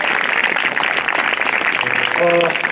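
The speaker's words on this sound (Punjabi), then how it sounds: "ਬੜੀ ਜ਼ੋਰਦਾਰੀ ਇਸ ਦੀ ਤਾੜੀ ਦੋ" A congregation claps at a church testimony gathering, producing dense, sustained applause; a voice briefly rises over it near the end.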